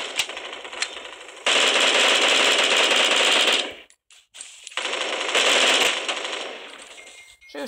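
Automatic gunfire in the shooter video game Bullet Force rattles in two long sustained bursts, loud and close, separated by a brief lull with a few scattered shots.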